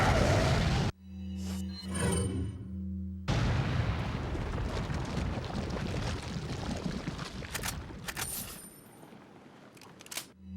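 Incendiary grenade going off in Resident Evil 4: a sharp burst followed by a long roaring, crackling fire rumble that fills the scene for several seconds, with a few clanking metallic hits near the end.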